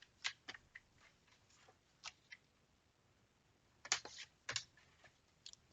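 Scissors snipping scrapbook paper, heard as short, sharp, close cuts in small clusters with quiet pauses between them.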